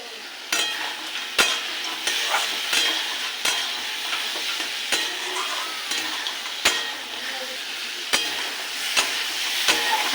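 Ridge gourd and lentil dumplings (bori) fry in a pan, a steady close sizzle punctuated by regular sharp spatula strikes and scrapes against the metal.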